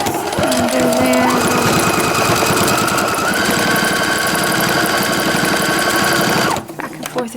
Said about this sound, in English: I have a computerized brother sewing machine that I'm using right now